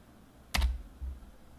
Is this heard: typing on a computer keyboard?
yes